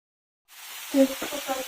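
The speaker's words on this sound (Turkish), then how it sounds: "bunu da güzelce kızartıyorum" Zucchini slices sizzle in a frying pan, a steady broadband crackle beginning after a short silence, with faint voiced speech and a few louder clinks mixed in near the close.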